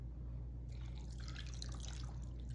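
Water poured from a measuring cup into a crockpot for beef tips and gravy, a soft steady splashing trickle that starts partway in and runs close and fairly quiet over a constant low hum.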